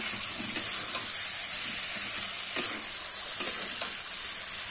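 Fried potatoes being stir-fried with spice masala in a pan, a steady close sizzle with occasional scraping stirs and a few sharper spatula knocks, no voices.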